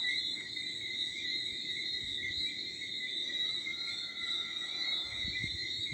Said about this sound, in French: Le bruit des criquets, le cri des grenouilles